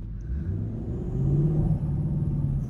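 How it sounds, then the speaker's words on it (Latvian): Turbocharged Porsche engine running with a steady low rumble and a gentle swell in intensity midway, a faint whine riding above the drone, heard fairly close with no talk. "Te turbīns var dzirdēt."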